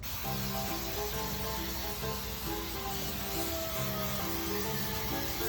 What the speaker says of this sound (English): So we have some spray adhesive, and we're just going to spray it on this part.